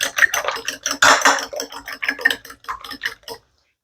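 Ingredients for shredded beef machaca are mixed in a bowl, a utensil clinking and scraping quickly in rapid close taps and stirring strokes that stop abruptly near the end.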